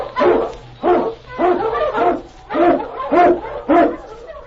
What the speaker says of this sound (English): King, the swiftest, strongest of Eskimo lead dogs, blazes the trail through storm and snow